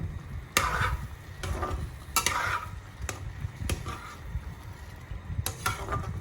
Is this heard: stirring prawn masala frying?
yes